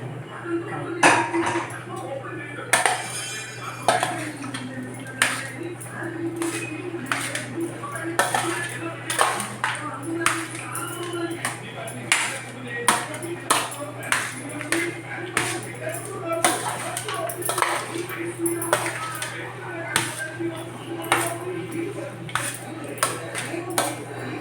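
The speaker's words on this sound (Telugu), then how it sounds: "పులిహోర కలుపుతున్నానండి" Tamarind rice (pulihora) being stirred in a metal vessel: repeated light metallic clinks and scrapes in an uneven rhythm over a steady low hum, close and moderately loud.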